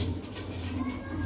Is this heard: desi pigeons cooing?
yes